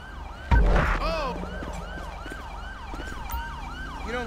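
An ambulance siren in the GTA V LSPDFR police mod wails in a fast repeating yelp cycle, loud and close after a sudden thump, continuing steadily with no talk over it.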